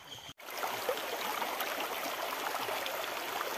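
Mountain stream water rushing in a steady, close, broadband wash, with clear runoff flowing down from the hills. A brief dropout interrupts it near the start, and no one talks.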